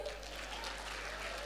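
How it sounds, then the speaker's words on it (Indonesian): An audience at a campus bank event applauds with steady, even clapping that sounds slightly distant and fairly faint throughout. "Tepuk tangan dulu buat Felis."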